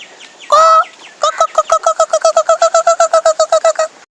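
Chickens near Mettur Dam give one sharp call, then a rapid, evenly spaced run of about twenty loud, close clucks that ends abruptly.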